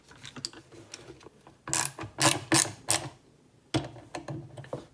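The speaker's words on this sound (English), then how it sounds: "And then just screw this bottom" Close, small metallic clicks and ratcheting turns as the bottom screw of a Savage Arms Model 187J rifle is driven in, several short bursts separated by quiet pauses.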